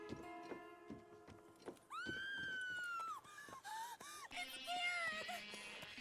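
A horse in Red Dead Redemption 2 whinnies loudly and at length, with a rising, wavering neigh, then snorts and gives shorter whinnies over a few clip-clop hoof thuds. No one speaks.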